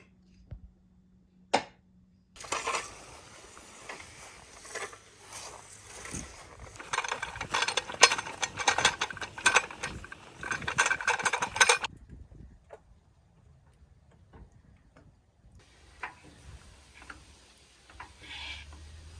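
A car jack converted into a high-lift off-road truck jack clatters through its lifting action, with bursts of rapid ratcheting clicks and metallic mechanism noise up close, then quieter intermittent ticks.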